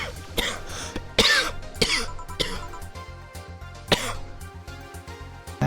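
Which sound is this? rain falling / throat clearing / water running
throat clearing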